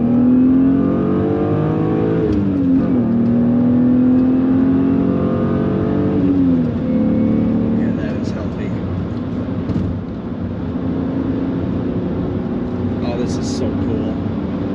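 A 1999 BMW M3 coupe pulls hard in second gear toward its 6500 rpm redline, the engine note rising steadily with a brief dip around a shift-like pause, loud and close from inside the cabin, with a voice briefly heard.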